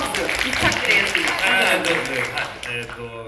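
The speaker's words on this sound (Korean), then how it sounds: "뜨거운 박수 부탁드리겠습니다." Audience applause for an author at a Japanese horror film screening, moderate and steady under a voice speaking, tapering off at the end.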